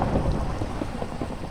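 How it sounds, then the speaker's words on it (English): Steady rain and rumbling thunder from a Minecraft thunderstorm roll on without a break, a dense continuous wash at moderate loudness with no voices over it. "Hope you can hear me over the thunder."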